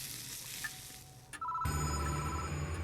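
A telephone in the horror game Spirit Hunter: Death Mark starts ringing abruptly partway through, a sustained electronic ringing tone over a low hum, after a quieter stretch of faint ambient noise.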